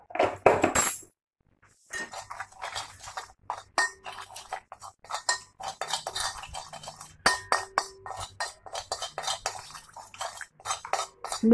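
A spoon mixes salt, black pepper, cumin, two garlic cloves and a little oil in a dish, giving brisk, irregular clinks and scrapes against the bowl that continue after a brief pause.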